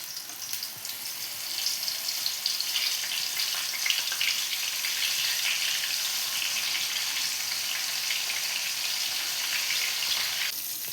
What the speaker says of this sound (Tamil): இப்போ இந்த பாகற்காவை பொரிச்சு எடுத்துக்கலாம்.